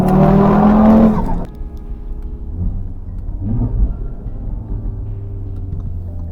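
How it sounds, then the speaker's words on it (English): Audi RS3 five-cylinder engine, a loud roar that cuts off sharply after about a second, followed by a quieter burbling, crackling idle and distant rumbles. "you're still getting that beautiful 5-cylinder noise that everyone's looking for."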